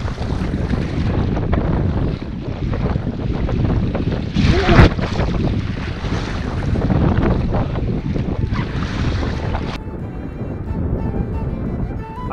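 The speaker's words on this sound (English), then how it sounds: "Waves are cresting the side of the raft here." Waves cresting against the side of a raft on open water in the Newfoundland wilderness, a loud continuous churning wash with heavy wind buffeting the microphone and a sharper splash near the middle.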